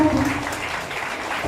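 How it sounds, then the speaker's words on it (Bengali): An audience at a volunteer organisation's ceremony breaks into brief, steady applause, a dense wash of clapping from a roomful of people lasting only a moment. "এটা জোরে করতালি চেয়ে নেব।"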